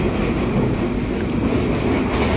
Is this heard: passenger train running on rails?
yes